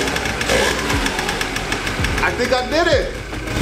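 A Yamaha Razz scooter engine idling unaided without the choke, a close, rough buzzing putter with some unsteady revving, under a voice speaking briefly.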